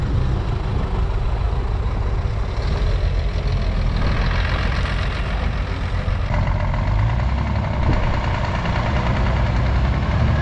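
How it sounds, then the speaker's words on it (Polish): Several Ursus tractor engines idle steadily while warming up, a continuous loud low rumble with a knocking diesel throb that stays even throughout. "Rozgrzewamy ciągniki"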